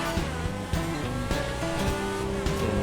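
A Ferrari FXX-K hypercar in a modded GTA V drive roars steadily at high revs, with engine harmonics shifting through gear changes and hints of tire squeal, loud and continuous with no voices.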